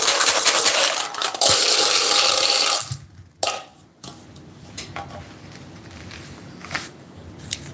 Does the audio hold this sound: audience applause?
no